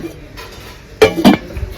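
Steel pots and dishes knock together in a shop aisle, two sharp close metallic clanks about a quarter second apart after a quiet start.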